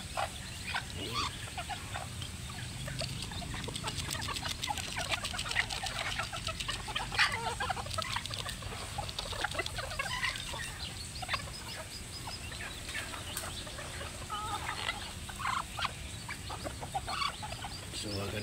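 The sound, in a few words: chickens clucking in backyard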